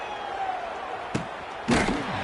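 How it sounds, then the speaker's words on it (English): American football punt kicked by the Delaware Blue Hens: a sharp, single thump of boot on ball, followed a moment later by a louder burst of crowd noise. "And the Blue Hens will punt this one away."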